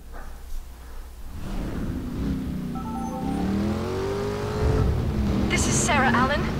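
Car engine during a chase in Driver: San Francisco, a steady mid-level drone rising in pitch as the car accelerates, with voices talking over it.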